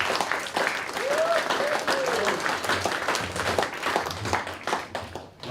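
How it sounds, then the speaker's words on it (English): Guests at a 21st birthday celebration clap in a lively round of applause, with a few voices calling and whooping over the clapping before it fades near the end. "So a round of applause for the wonderful child from"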